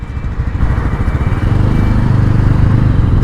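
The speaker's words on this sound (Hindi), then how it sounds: "सारी बाइक्स आ चुकी है" Motorcycles rumble nearby as they arrive for a morning group ride, a steady, loud low engine drone that thickens and grows busier partway through, with no talk.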